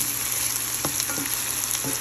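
Carrots and peppers fry in a pan with a continuous, close sizzle, broken by a few soft scrapes and knocks as the vegetables are stirred.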